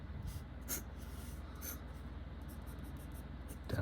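Scratchy writing strokes from a Lamy Safari-style Yiren 405 fountain pen with a medium nib on paper, a steady close friction with a few brief sharper scrapes, heard alone.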